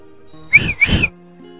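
A man whistles two short, loud, bright bursts back to back, alone over a quiet background hum.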